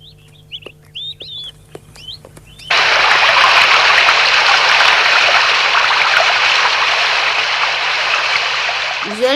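Bird chirps and clucks at first, then a loud, steady rush of flowing stream water takes over and continues close by.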